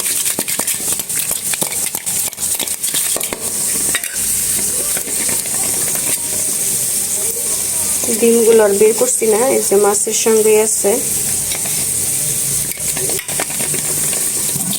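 Hilsa fish coated in turmeric, salt and chili powder sizzles steadily in hot oil, a continuous frying hiss running throughout with someone talking over it.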